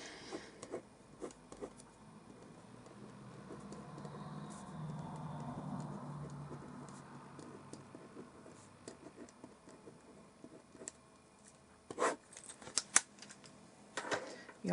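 Keys on a keyboard clatter in irregular bursts of quiet taps and clicks, with a faint murmur of activity in the background and a few sharper louder keystrokes near the end.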